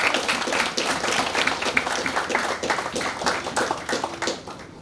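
Children and adults at a young writers' fiction workshop clap for a student, a loud, sustained wash of many hands clapping nearby that holds steady throughout and tapers off near the end.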